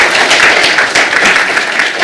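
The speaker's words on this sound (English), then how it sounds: "I feel we should now applaud" Steady, dense applause from a panel discussion audience at a search and rescue event, many hands clapping together loudly and evenly for about two seconds with no voices over it.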